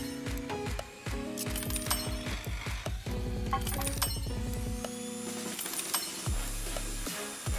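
A ratchet wrench in Car Mechanic Simulator 2021 clicks in rapid, evenly spaced runs of metallic ticks, with mechanical clinks and a sustained tone toward the end, loud and close with no one talking.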